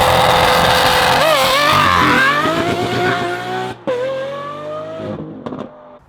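Lamborghini Aventador SVJ supercar engine revving loud and close, a rising howling wail that dips and climbs again with a sharp gear-change break midway, then fades out.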